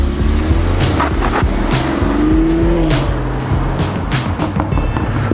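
A 2019 BMW X4 Sport Activity Coupe drives with a steady, loud engine and road roar, tire noise swelling slightly mid-pass, with no one talking.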